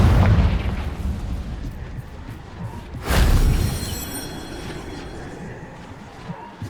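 A Confringo fire spell in the Hogwarts Legacy video game lands as a sudden booming explosion with a rumbling, crackling tail that fades over a few seconds, following a loud rushing onset.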